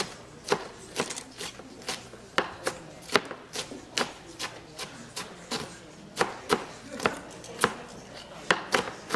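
A knife slicing vegetables thinly on a cutting board while a Rosh Hashana dish is prepared; quiet, steady, crisp chops repeat at a brisk, fairly regular rhythm, heard close with little talk.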